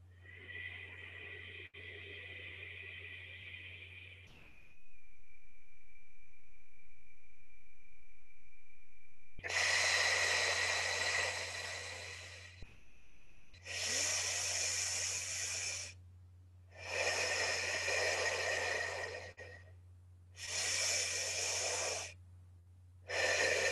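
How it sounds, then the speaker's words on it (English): Slow, deep breaths during a guided meditation, each long breathy inhale and exhale standing alone and fairly close, with a steady low hum underneath and brief quiet gaps between the later breaths. "Breathing in love, breathing out, peace and harmony."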